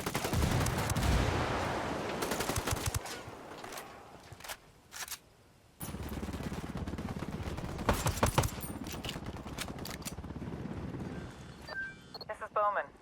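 Gunfire in a video game firefight in Ghost Recon Wildlands, with dense bursts of shots and rapid volleys crackling across the scene, broken by brief lulls, with voices shouting over the shooting.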